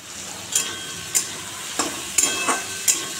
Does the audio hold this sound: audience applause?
no